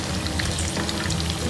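Tofu frying in a pan, a dense, loud, continuous crackling sizzle close up, with no pauses.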